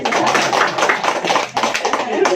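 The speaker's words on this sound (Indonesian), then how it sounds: "Tepuk tangan" A small group at a family skills meeting claps along in quick rhythmic bursts, close and fairly loud, with some voices mixed in among the claps.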